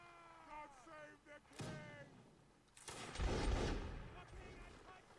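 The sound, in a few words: musket volley fire in Napoleonic Wars video game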